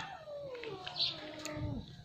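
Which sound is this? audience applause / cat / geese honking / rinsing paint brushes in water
cat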